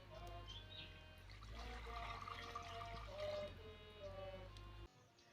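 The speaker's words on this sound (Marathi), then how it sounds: "आता आपण भांड्यामध्ये पाणी टाकून घेऊया।" Water is poured steadily into a cooking pot set on a wood-fired stove, a trickling, splashing flow over a low constant hum that cuts off abruptly just before the end.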